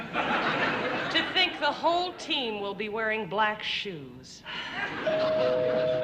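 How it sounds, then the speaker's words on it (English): A doorbell rings on a 1967 television variety show sketch set, a clear sustained tone that comes in at the end after spoken dialogue and a ripple of laughter. "That's the doorbell."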